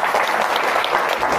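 A short burst of audience applause at a meditation talk in Hyderabad, many hands clapping close and loud all the way through.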